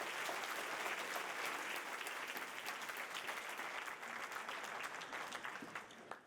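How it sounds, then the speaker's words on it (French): Gala crowd at a twenty-fifth anniversary celebration applauding, a steady, fairly distant wash of many hands clapping that stays even before tapering slightly at the end. "sous vos applaudissements"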